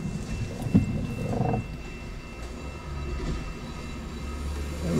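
A long BNSF freight train of tanker cars rolls past with a steady low rumble, a few brief clanks and rising wheel noise, heard from trackside at moderate level.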